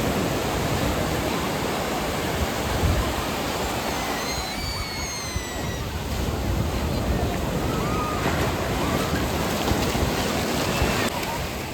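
Sea waves wash up onto a beach at Udupi or Mangaluru in a continuous loud rush of surf, with wind buffeting the microphone throughout.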